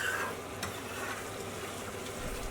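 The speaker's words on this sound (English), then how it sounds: "So I just need to scrape all the edges back into the sauce." Steady sizzling of thick, caramelised Madras chicken curry sauce in a hot pan as a utensil scrapes the edges back in, a continuous close frying hiss with faint scraping strokes.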